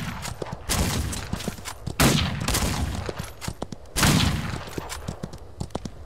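Bandits' gunfire in the Western survival game Outlaws of the Old West: rapid, overlapping gunshots crack in repeated bursts, loud and close, with heavier volleys roughly every two seconds and no talk.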